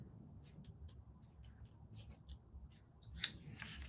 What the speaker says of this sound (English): I'm peeling this carefully off